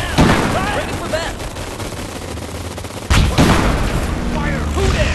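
Bazooka blasts and bursts of gunfire in a video game, with heavy booms near the start and again partway through and rapid shots between, under shouting voices.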